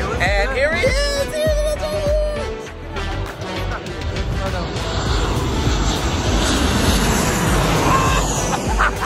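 An airplane passes low overhead near LAX airport by Westchester, a loud engine roar that builds and holds steadily, with some voices audible early on.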